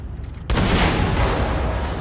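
An explosion erupts in the shooter game Wolfenstein II: The New Colossus, a sudden loud boom that rolls into a sustained roaring rumble.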